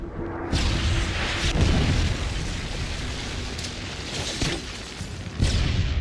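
Heavy booming blasts from a missile strike in a shooter video game match, a few deep explosions rolling one after another at close range and fairly loud, with no voices over them.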